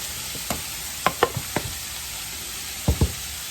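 Onions and flour frying in a pan, with a steady faint hiss of sizzling under a handful of sharp scraping clicks from stirring, clustered early and again near the end.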